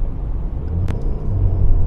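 Toyota C-HR with about 20,000 km driven, checked on the road for an abnormal noise, giving a steady low engine and road rumble as it accelerates from inside the cabin, with a brief click partway through.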